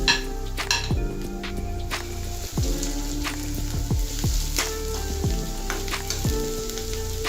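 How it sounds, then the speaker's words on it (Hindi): Green chilli, garlic and ginger sizzle steadily in a hot pan for paneer bhurji, with repeated clinks and scrapes of a spoon stirring against the metal throughout. "तो अब मैं इसमें हरी मिर्च, लहसुन, अदरक डाल रही हूँ।"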